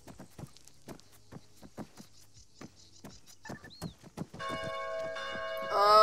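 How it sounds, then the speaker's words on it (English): Bell clanging in the game ARMA 3, preceded by a run of sharp footstep-like knocks, then a loud sustained ringing tone that swells near the end. "We're gonna die, it's the dinner bell."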